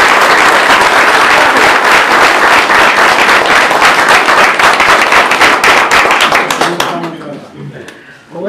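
Audience applause at an appliance handout event in Mata Clara, loud dense clapping with crisp individual claps that fades out near the end as a voice begins speaking.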